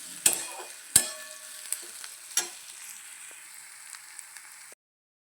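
Bay leaf and spices sizzle in hot oil in a pan, with a few sharp crackles and pops early on over a steady frying hiss that fades out before ending in silence.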